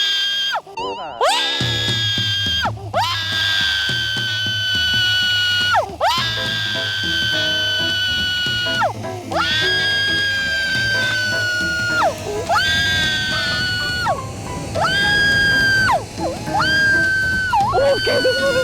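A woman screams over and over while flying down a zipline in very strong wind, with long, loud, sustained shrieks broken by short breaths and a steady roar of rushing air underneath.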